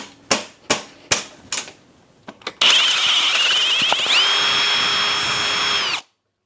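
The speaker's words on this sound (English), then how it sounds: "So I actually had to drill those out a little bit" A power drill bores out frame bolt holes through thick powder coat on a 2005 Suzuki LTZ400 quad frame; several sharp knocks come first, then a loud, steady whine runs for a few seconds and cuts off abruptly.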